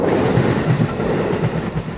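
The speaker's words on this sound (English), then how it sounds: "But wait for the train to pass." A train runs past near the beach at Kamakura, a steady close low rumble with faint rhythmic wheel clatter continuing throughout, no voices.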